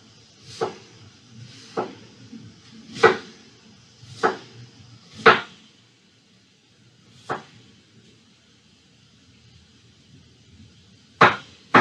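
Knife chopping cabbage and other vegetables into thin slices for curtido on a cutting board, a series of sharp, separate thuds with uneven gaps, close and clear against a quiet room.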